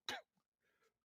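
A single sharp, close cough bursts out loudly at the start, followed by a faint throat noise and a soft trailing breathy sound.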